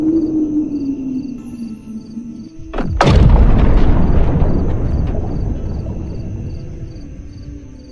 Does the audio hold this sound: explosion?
yes